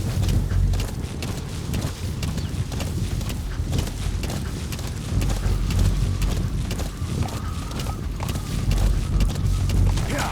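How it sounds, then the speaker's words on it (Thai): A horse gallops in Metal Gear Solid V: The Phantom Pain. Loud, steady hoofbeats run the whole way through over continuous game ambience, with no talk. "เดินทางด้วยม้าน่าจะคล่องตัวกว่า"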